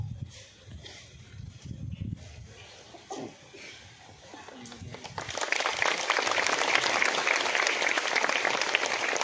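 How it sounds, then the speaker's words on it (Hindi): Audience applause at the unveiling of a statue of Servant of God Fr. Marian Zelazek SVD: a voice speaks first, then clapping swells into loud, sustained applause from a sizeable crowd. "जोर से ताली बजाओ"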